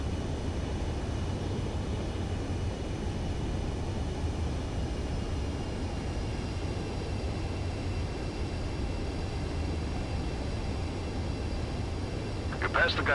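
Steady jet engine drone of an aircraft on landing approach in Ace Combat 7, a constant broadband roar holding evenly throughout with a brief brighter blip near the end.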